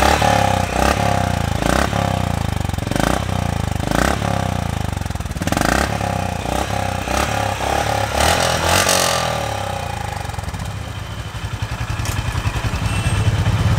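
Honda CB350 RS motorcycle idling close by, a loud, steady, throbbing exhaust beat with occasional clattering thumps and a brief blip of throttle.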